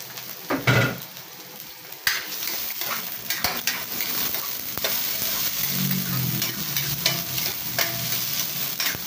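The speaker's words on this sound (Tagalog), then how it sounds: "kamatis, gisa mo natin" Red onion and tomato sauté in a tablespoon or two of hot oil, a steady close sizzle under repeated scrapes and clinks of a utensil stirring against the pan, with no talk.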